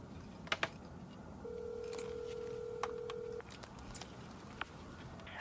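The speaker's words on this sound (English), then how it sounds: "I think I dialed the wrong number" Quiet telephone dialing with a few sharp clicks and a single steady tone lasting about two seconds, then more faint clicks in a hushed room.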